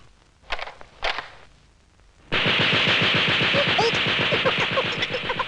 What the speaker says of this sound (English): one of the most exotic being the machine gun